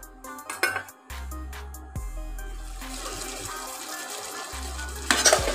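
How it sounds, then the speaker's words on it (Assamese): A spoon stirs soybean masala in a cooking pan, scraping and clinking over a steady sizzle, with a few sharper metal taps near the start and the end. "এইখিনি এতিয়া মই খুব ধুনীয়াকৈ এইখিনি অকণ মজাই ল'ম"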